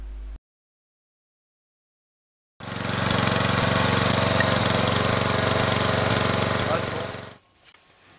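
A motor engine revs loudly after a short silence, holding a steady, rough, high-pitched roar for about five seconds before cutting off abruptly.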